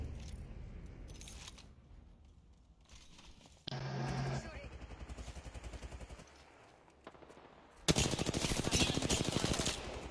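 Video game gunfire crackles in bursts of rapid automatic shots, loudest in a dense final stretch, with a player's voice talking over parts of the action.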